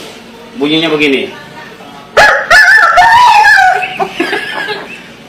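A voice mimics a rooster crowing at 4 am. A short spoken phrase comes first, then a loud, drawn-out, wavering crow rises and falls over about two seconds.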